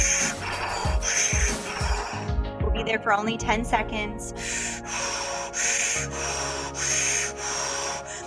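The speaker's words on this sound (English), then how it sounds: "pick up the breath all with the mouth" Quick breaths drawn in and pushed out through the mouth, a rhythmic rushing pattern during a breathwork exercise, heard close and clear with a person speaking over it.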